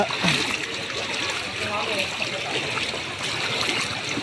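Floodwater splashing and rushing through a flooded street during heavy rain, a continuous close wash of water that goes on for several seconds.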